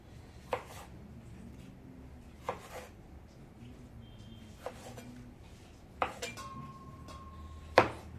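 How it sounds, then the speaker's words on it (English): Several sharp, spaced knife strikes against a cutting board, about six chops over several seconds, roughly quartering tomatoes, with a quiet background between them. "Now I am just roughly chopping the tomatoes into 4 pieces so that I can puree it."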